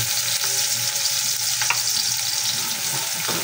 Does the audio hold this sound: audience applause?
no